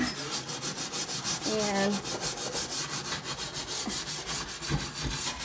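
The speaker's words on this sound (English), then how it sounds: "You just take this and you scrub really hard." Hard, steady scrubbing on a stovetop to lift stuck crumbs, a rhythmic rasping rub repeating close up with a few brief knocks, no voices over it.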